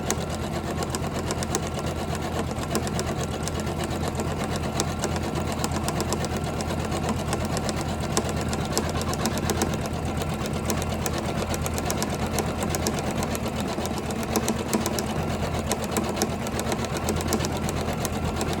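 A Janome 500e embroidery machine stitches a Halloween napkin with a steady, fast mechanical whir and rhythmic needle clatter, running unbroken at even loudness throughout, with no talk.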